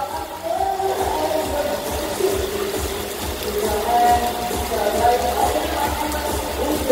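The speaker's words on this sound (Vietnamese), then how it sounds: "Cảnh trời mưa, một vùng nông thôn ở Bến Tre." Heavy rain falls over farmland in the Ben Tre countryside of Vietnam, near a cattle shed with cows and white chickens, a steady dense wash of water noise continuing unbroken throughout, moderately loud with no talk.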